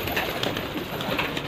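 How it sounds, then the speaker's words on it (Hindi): Pigeons coo softly and steadily against a constant, noisy outdoor backdrop where pigeons are being released to fly up and down, with faint repeated calls blending into the hiss. "ये दोस्तों कबूतर खोले ऐसा ऊपर नीचे करवा रहे हैं, परवर चलवा रहे हैं।"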